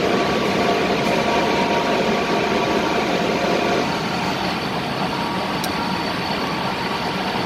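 A pneumatic air motor runs under test with its cover closed, producing a steady, loud whirring hum with a slight drop in level midway and a brief click near the end.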